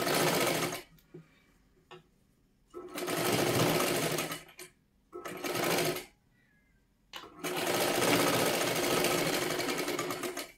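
Sewing machine stitching blouse fabric, running in several loud close bursts of steady whirring with short pauses between them.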